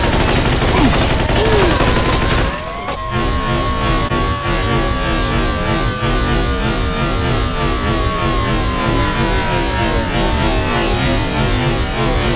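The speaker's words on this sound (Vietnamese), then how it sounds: "Dạ, nó bắn ghê quá. Nó bắn rác quá các bạn ơi." Gunfire in the video game Mafia 2 rattles on almost continuously, loud automatic bursts and repeated shots with a short pause early on, alongside other game sounds.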